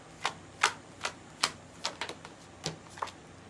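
Oracle cards are swirled and mixed by hand across a table, giving a run of about ten sharp, close slaps and brushes at an uneven rhythm, with no talking.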